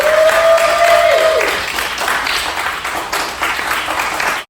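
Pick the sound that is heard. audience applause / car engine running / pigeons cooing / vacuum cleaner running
audience applause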